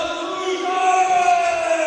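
A large crowd murmurs and cheers steadily in an indoor gym called the Tank ahead of a high school boys basketball game between Central Lafourche and South Lafourche, a dense, sustained roar of many voices.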